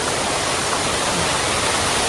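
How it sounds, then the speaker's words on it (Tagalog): Water from the mountains rushes steadily at a hidden paradise resort, a loud, continuous waterfall-like roar with no pauses. "ito yung sinasabi ko dito na pupunta yung tubig sa labas galing dun sa kabundukan"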